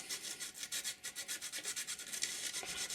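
Emery cloth scraped back and forth beneath the contact wipers of a Rock-Ola jukebox, a steady rhythmic rasping rub repeated many times, close and continuous.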